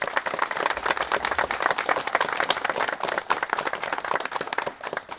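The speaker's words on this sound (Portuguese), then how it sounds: "peço aqui uma salva de palmas, pessoal, ao Sérgio Lerer e ao Dutti" A crowd at an outdoor park launch ceremony claps in dense, sustained applause for several seconds, then fades slightly toward the end.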